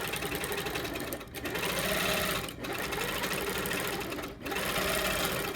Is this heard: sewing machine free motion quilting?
yes